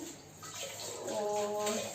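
Water filling a large vessel, a continuous close rushing and gurgling that grows slightly louder, with faint voices in the background.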